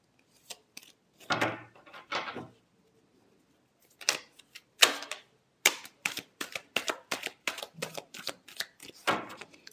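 Tarot cards are shuffled and riffled close by in irregular bursts of crisp papery flutters and taps, with short pauses between handfuls, and no talking.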